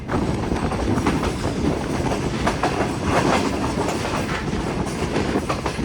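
Shah Hussain Express running on the Lala Musa–Shorkot branch line in Pakistan, a steady loud rattle of wheels on rails with rhythmic clickety-clack throughout, close and continuous with no voices.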